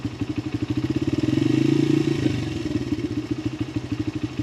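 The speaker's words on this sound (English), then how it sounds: "you gotta slowly let out the clutch while giving it some gas." Honda XR80R dirt bike engine idling in a rapid steady putter, then revving up smoothly for a second as the clutch engages before settling back to a pulsing chug, close and loud.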